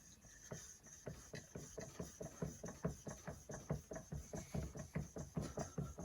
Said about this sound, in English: That was me sharpening the front of the chisel, and that's the back of the chisel.